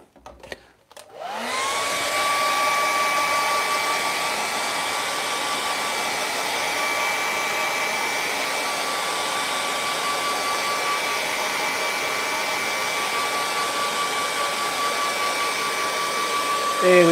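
Hair dryer blowing steadily and loudly on an acrylic painting canvas, switching on after a brief click and running continuously with a constant whine throughout.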